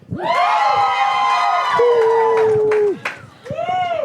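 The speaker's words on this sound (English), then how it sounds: "that crowd was insane for all three." Studio crowd on a Kings & Kweens episode cheers, whoops and shouts loudly and continuously, with high excited voices layered over one another, a brief dip near the end before the roar picks back up.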